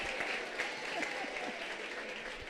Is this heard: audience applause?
yes